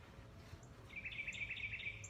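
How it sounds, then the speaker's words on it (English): A bird calls outdoors with a quick, high trilling chirp, clear and fairly close over a low background hum. "Our bird's loud today. It's close by."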